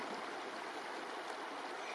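A river near a backcountry campsite in Banff's Front Ranges flowing as a steady, even wash of water, continuous and moderately distant with no voices.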